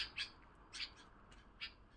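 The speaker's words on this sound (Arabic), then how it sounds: "على صوت العصافير سامعين" Distant morning birds give short, harsh chirps and squawks, three or four separate calls over a quiet outdoor background, recorded on a OnePlus 10R phone's front camera.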